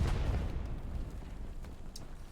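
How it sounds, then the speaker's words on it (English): Muffled booms and rumbling blasts from the World War II shooter Hell Let Loose on Omaha Beach, a heavy low roar fading over a couple of seconds with a faint sharp pop near the end. "Yeah, explosions."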